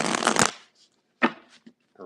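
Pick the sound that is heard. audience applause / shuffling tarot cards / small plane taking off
shuffling tarot cards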